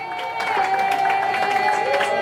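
Congregation at a wedding celebration cheering and shouting in acclaim, a dense steady crowd roar with overlapping voices and sustained tonal sound throughout.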